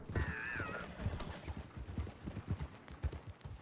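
A horse in Red Dead Redemption 2 gives a loud whinny near the start, followed by steady, close hoofbeats clopping throughout over a busy ambient background.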